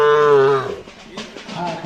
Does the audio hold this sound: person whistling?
no